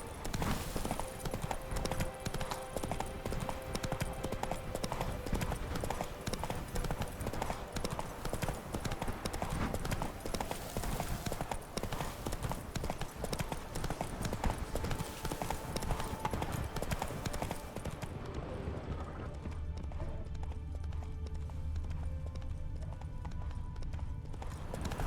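Roach the horse galloping in The Witcher, hooves clip-clopping in a fast steady rhythm, loud and near, with a short voice heard along the way before the pounding thins toward the end.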